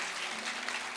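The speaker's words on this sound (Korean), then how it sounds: "한번 우리 박수로 한번 환영하겠습니다" A church congregation claps in welcome for an engaged couple, a brief burst of dense, even applause filling the room.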